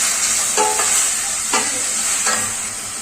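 Tomato and onion fry in a pan for a South Indian village-style sambar, giving a steady sizzle throughout with a few stirring scrapes at intervals, close and fairly loud.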